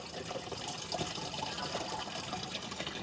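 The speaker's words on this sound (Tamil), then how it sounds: "இப்போ நம்ம ஃபில்டரில் தண்ணி ஃபில் ஆகிட்டு இருக்குது" Water pours steadily into a garden sprayer tank that already holds a mixed egg solution, a continuous broadband rushing gush with no breaks, heard close and fairly loud throughout.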